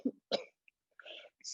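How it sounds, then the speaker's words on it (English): A few short coughs push out on a guided yoga exhale, separated by brief pauses, fairly quiet and close, with breathy noise between them. "Exhale, cough."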